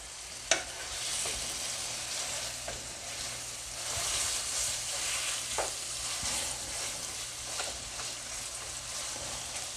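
Bajan stuffing fries in a pan with a continuous close sizzle and crackle, broken by occasional light taps of a spoon stirring against the pan.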